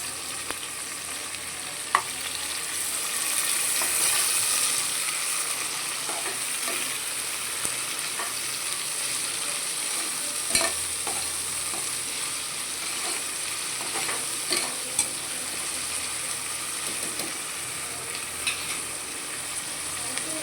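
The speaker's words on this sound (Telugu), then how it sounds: "ఉల్లిపాయలు వేగనిద్దాం." Onions sizzle and fry in a pan of oil for mutton curry, a steady, fairly quiet crackle with occasional stirring scrapes and small pops throughout, with no voice over it.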